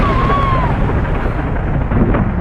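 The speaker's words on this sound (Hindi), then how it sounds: "उसी पल बाहर तेज बिजली कड़की।" A loud, rumbling thunder clap outside at night in a horror tale, a heavy continuous low roar that fills the moment without a break, heard on its own.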